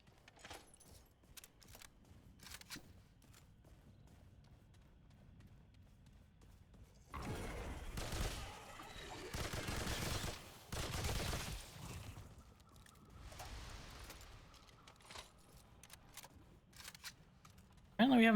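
Bursts of machine gun fire from a video game come in two or three dense loud clusters through the middle, with quieter clicks and faint game sounds before and after.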